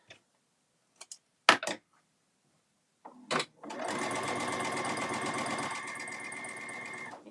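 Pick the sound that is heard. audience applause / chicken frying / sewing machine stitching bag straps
sewing machine stitching bag straps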